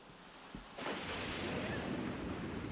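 A thunderstorm in the video game The Sims 3 starts with a low thump, then a sudden broad roar of rumbling thunder and rain that stays loud and steady.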